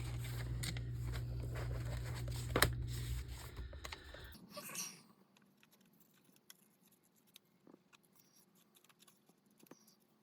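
Close, quiet snips and rustles of scissors cutting paper, scattered irregular clicks after a louder stretch of background noise ends.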